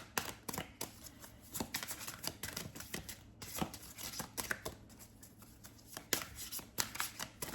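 Oracle cards being shuffled by hand, a close run of quick papery riffles and soft slaps in uneven bursts, fairly faint, with no talking.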